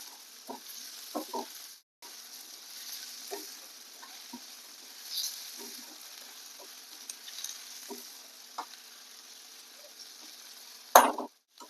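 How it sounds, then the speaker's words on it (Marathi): Onion and tomato sauté in a pan with a faint, steady sizzle. Scattered light stirring scrapes come through, and one sharp clatter sounds near the end. "कांदा परततोय"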